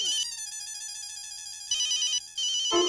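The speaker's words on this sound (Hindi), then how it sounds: "बॉस का फोन आ गया।" A phone ringtone plays a bright, steady electronic melody of repeating tones, loud and close, breaking briefly before resuming as an incoming call from the boss.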